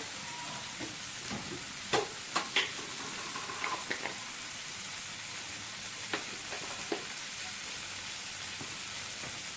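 Paneer sauteing in ghee with pepper and milk gives a soft, steady sizzle, with a few sharp clicks and taps from stirring scattered over the low frying hiss. No one speaks.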